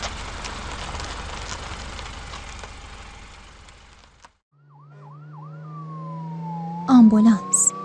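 A rough rumbling noise gives way to silence, then an ambulance siren starts up with quick rising-falling whoops before settling into a long wail. A short voice cuts in near the end.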